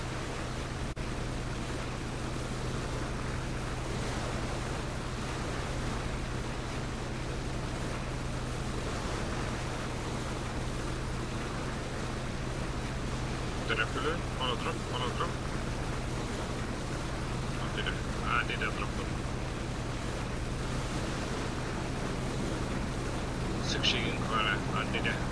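Steady broadband rush of waves and a boat engine in the PUBG video game, constant and fairly loud for the whole stretch, with faint brief clicks and a person talking over it.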